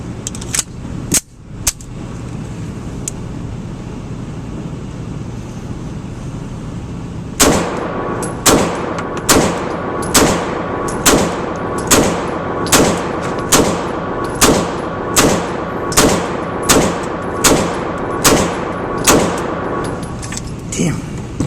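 A Beretta 92X pistol fires 15 rounds at 7 yards: sharp loud shots in an even, steady cadence of roughly one per second, preceded by a few scattered clicks and bangs, with outdoor ambience behind.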